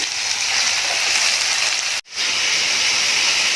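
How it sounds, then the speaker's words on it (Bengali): Taro potatoes fry with salt in hot oil, giving a steady loud hiss and sizzle that drops out briefly midway, then resumes. "সুন্দর লাল লাল হয়ে গেলে তারপর খাম আলুগুলো দেব আলুগুলো ভাজার জন্য একটু লবণ দিলাম"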